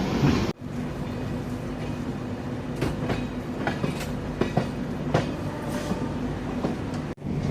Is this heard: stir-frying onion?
no